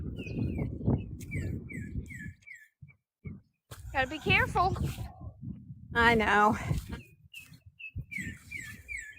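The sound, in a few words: birds chirping outdoors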